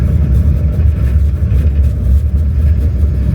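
Test Track ride vehicle at EPCOT accelerating, a steady loud low engine-like rumble and rush that holds evenly without a break.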